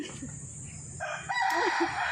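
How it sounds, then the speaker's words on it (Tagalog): A rooster crows nearby at a school garden, its drawn-out call rising over a busy outdoor background of steady noise. "May manok na naman."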